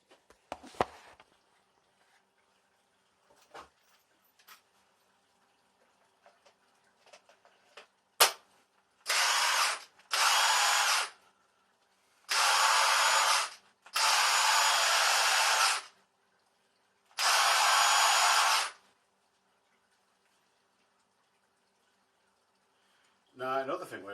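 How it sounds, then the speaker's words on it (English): Snap-On Monster Lithium cordless impact wrench running free in five separate bursts of about one to two seconds each, loud and close, with quiet pauses between and faint handling noises before. "Now, I'm going to attach a battery to it and just show you guys what it sounds like."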